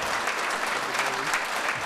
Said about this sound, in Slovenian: Dajte en aplavz Bojani, prvič je v oddaji.